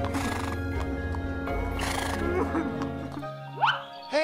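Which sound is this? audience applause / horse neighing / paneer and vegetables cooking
horse neighing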